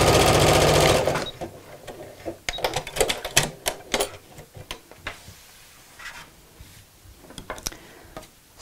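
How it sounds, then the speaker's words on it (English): A sewing machine edge stitches across the top of a backpack pocket, a loud steady whir at first, then a run of short, irregular bursts and clicks as the fabric is eased along. "This time, I'm just going to edge stitch across the top."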